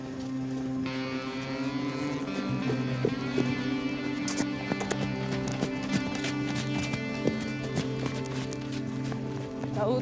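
Horse hooves clip-clop steadily along the Canal des Deux-Mers towpath near Moissac, a close, continuous rhythmic clatter over a droning tonal background.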